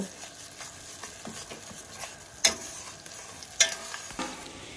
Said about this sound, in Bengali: দিয়ে ভালো করে এটাকে নেড়ে চেড়ে মিশিয়ে নেব